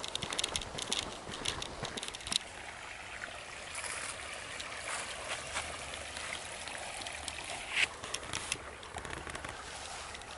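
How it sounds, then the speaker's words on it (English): A small creek swollen with extra water trickles and burbles on an overcast day on the Four Notch section, a steady close babble with brighter splashy flickers throughout. "This little creek has way more water in it than it did a couple days ago."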